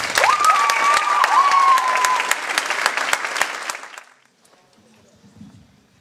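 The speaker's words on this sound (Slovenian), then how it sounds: "Vabim vas, da Katin slatinski pevski debi pozdravimo s toplim aplavzom." Concert audience at a school charity concert applauds to welcome a singer, dense loud clapping with a few cheers for about four seconds, then cutting to near silence with faint low rumbling.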